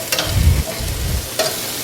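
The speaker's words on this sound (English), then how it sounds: "in with 8 ounces of sliced mushrooms. We'll let those saute for a few minutes." Sliced mushrooms saute in garlic butter with a close, soft sizzle, punctuated by low bumping stirs and a couple of light utensil clicks.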